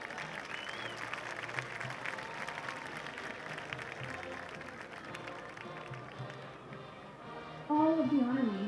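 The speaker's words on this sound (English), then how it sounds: "Please give Enrique and Daniel a warm round of applause." A stadium crowd applauds homecoming honorees at a high school football game, a steady wash of distant clapping and crowd noise with an announcer's voice over it.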